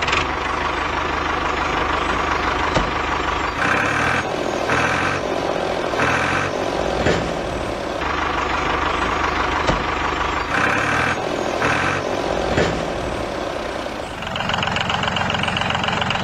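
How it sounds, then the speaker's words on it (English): A steady engine drone runs throughout, with rhythmic clunks and bursts layered over it, a homemade toy mini tractor motor chugging at a constant idle. "Oh, tractor."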